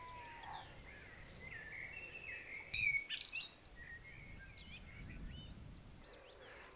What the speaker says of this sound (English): I can definitely hear a blackbird just up here, like right next to where I'm staying.